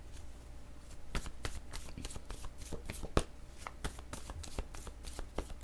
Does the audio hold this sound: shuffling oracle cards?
yes